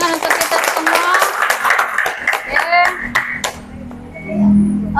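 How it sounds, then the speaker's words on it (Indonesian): A high school classroom full of students claps briefly, a burst of sharp hand claps mixed with chatter, then the noise gives way to a quieter room with a teacher speaking. "kita beri tepuk tangan untuk kita semua"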